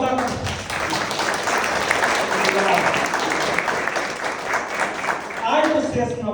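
Audience applause at a live event, a steady wash of clapping that fills the clip and swells again near the end.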